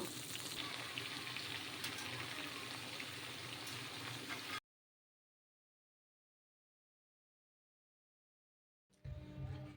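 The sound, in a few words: cabbage frying in a wok (kadai)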